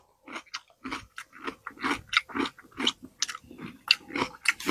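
Crunchy bites and chewing of a fresh cucumber that has turned yellow, prepared as a sweet-spicy cinnamon candy; close, crisp crunches repeat rapidly and irregularly for several seconds with no talking.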